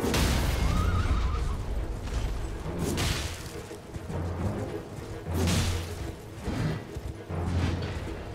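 A dying horse neighing in the game Elden Ring amid combat, with a shrill whinny early on over heavy low booms and whooshing impacts that swell and fade in repeated bursts.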